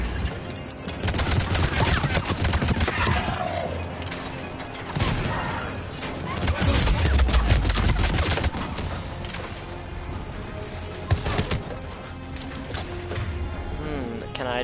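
Dense bursts of gunfire, pistol shots among them, crackle through a Mass Effect 3 firefight on Mars, with sharp rapid reports and mechanical clatter over most of the stretch and a voice talking in places.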